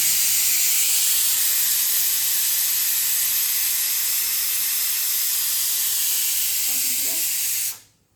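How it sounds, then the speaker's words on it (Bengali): Fish is rinsed under running tap water, a loud steady hissing gush that continues evenly before cutting off abruptly at the end. "আমি এখানে মাছ ধুচ্ছি।"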